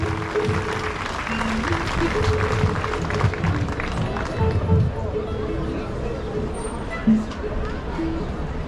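Audience applause after a performance by an Armenian national folk instrument ensemble, a sustained wash of clapping from a large crowd with crowd murmur underneath.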